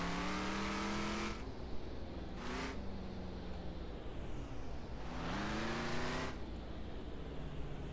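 Ranch simulator vehicle engine revving hard, pitch climbing and dropping through a couple of sharp bursts, with a loud steady motor drone throughout, tire squeal near the end, no talk.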